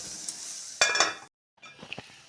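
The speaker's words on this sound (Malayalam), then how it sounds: "നമുക്ക് നന്നായിട്ടൊന്ന് ഇളക്കി കൊടുക്കാം" A spoon stirs carrot pachadi in a pan, giving two short bursts of scraping and clinking against a faint sizzle, then a brief silence before softer stirring scrapes and taps resume.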